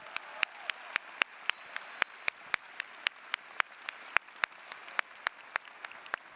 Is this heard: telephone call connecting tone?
no